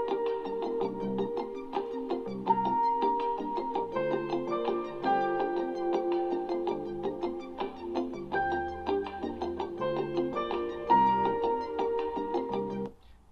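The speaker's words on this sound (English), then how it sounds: "but man, we used the loop for this song" Melodic music loop used as the basis of a hip-hop beat, with sustained tonal chords and a repeating bell-like melody playing steadily and fairly loud throughout, with no voices over it.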